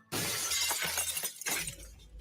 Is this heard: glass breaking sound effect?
yes